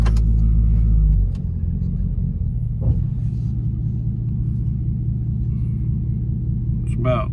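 A 2010 Ford Crown Victoria Police Interceptor with a cheap aftermarket exhaust rumbles at a steady low idle, a heavy throb that drops slightly in pitch after a brief louder start, with a faint higher sound near the end.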